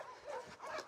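Abandoned little female puppy crying outside a shelter, two short whimpering yelps in quick succession, faint and somewhat distant.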